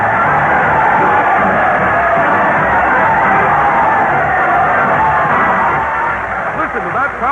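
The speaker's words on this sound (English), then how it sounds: "Listen to that crowd cheer as Fred Allen leads his parade of stars" Old-time radio broadcast crowd at a town hall show roars and cheers continuously, a loud dense wash of yelling and whooping that holds steady for several seconds, with a voice rising over it near the end.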